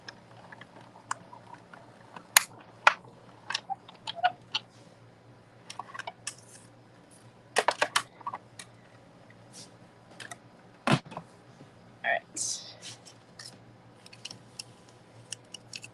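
Paper being cut with scissors for a stamped apple-harvest card project, heard as a series of sharp, close snips and clicks at irregular intervals over a quiet background, with no talking.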